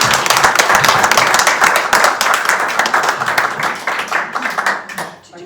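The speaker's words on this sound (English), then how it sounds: "give him a big round of applause" A garden talk audience applauds with dense, continuous clapping that gradually thins and fades toward the end, with some voices mixed in.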